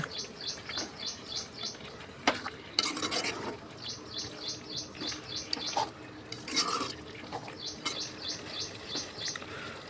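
Chicken varuval gravy with ground coconut stirred in a pan: soft scraping and spoon clatter in bursts over a low simmer, with rhythmic bird chirps in the background and no speech.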